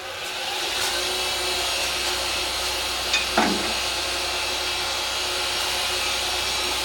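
A wood lathe spins at full speed while turning an acrylic pen blank, giving a steady, loud whirring drone with a brief scraping sound midway through.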